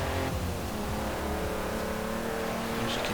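An inline six engine in a car revs steadily near 5,500 RPM, a loud, continuous droning hum with layered harmonics that holds constant from start to finish, with no speech over it.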